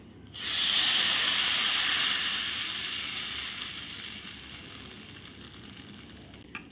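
Hot tempering with curry leaves and red chilli powder is poured over cooked dal, bursting into a loud, bright sizzle that peaks at once and then fades slowly to a gentle hiss.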